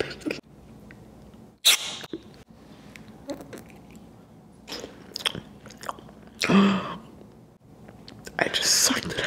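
Crunchy chewing of edible novelty objects made of chocolate and gelatin, close and intimate, with sharp bites and wet mouth sounds in irregular bursts, soft whispering between.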